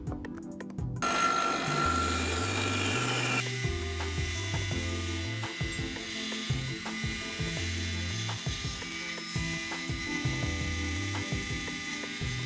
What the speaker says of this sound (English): then we'll trim this off at the bandsaw